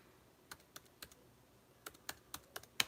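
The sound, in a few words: typing a code on a computer keyboard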